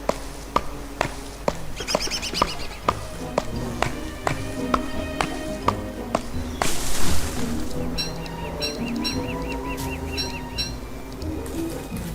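An axe chops trees in the video game Don't Starve, sharp wooden thunks landing in a steady repeated rhythm, with a brief rustling burst midway and chirping birds over a soft background.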